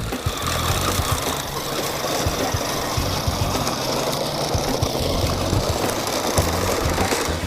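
The motor of a New Bright Bigfoot 1:10 scale RC monster truck runs continuously, a close buzzing whir with rattling drivetrain clicks at an even level throughout, with no speech over it.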